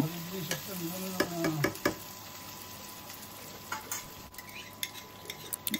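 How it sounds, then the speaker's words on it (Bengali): Garlic paste and ginger paste stirred in a frying pan while preparing katla fish kalia, with a soft background sizzle, scattered scrapes and clinks of a spatula against the pan in the first couple of seconds, then quieter intermittent taps. "একে একে রসুন বাটা, আদা বাটা দিয়ে আবার একটু নেড়ে ছেড়ে নিব।"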